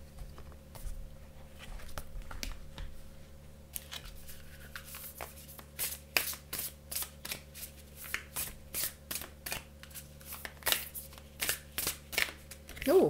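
A deck of oracle cards being shuffled during a tarot-style reading, starting with scattered light taps and then settling into a steady run of crisp riffling bursts, close and clear with no talk over them.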